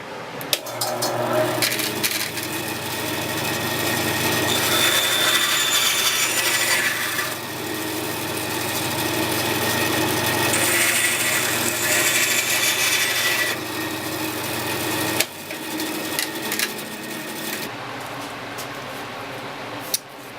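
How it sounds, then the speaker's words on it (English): A bandsaw cuts through a wooden pen blank in a steady, loud, continuous rasping drone lasting most of the stretch, easing off briefly near the end with no talking. "Next, cut the blank. You don't have to use a bandsaw. You can even use a hand coping saw. Since I have a bandsaw, I'll be using it."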